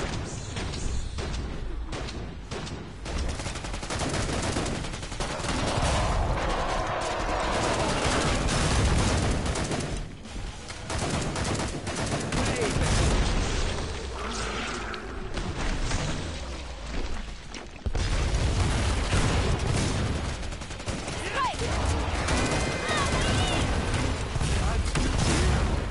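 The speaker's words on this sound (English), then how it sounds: "Nice shooting!" Repeated bursts of gunfire and impacts from the shooting game Killing Floor 2 clatter through a busy, loud mix, with a person talking intermittently over the action.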